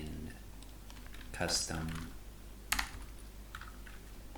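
Computer keyboard typing while code is entered for a Shopify tracking setup, a few quick clustered keystroke bursts, close and fairly quiet, with brief speech over it.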